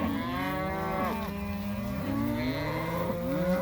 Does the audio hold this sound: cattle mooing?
yes